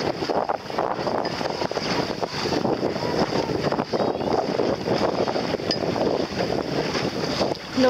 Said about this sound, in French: Le vent qui vient de tous les sens.